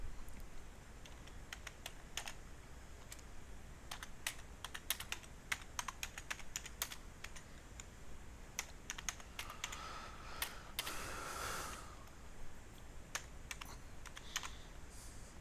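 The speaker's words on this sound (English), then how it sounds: "I'm going to type in the title" Rapid typing on a computer keyboard, heard up close as irregular clusters of key clicks, with a short louder rustle partway through.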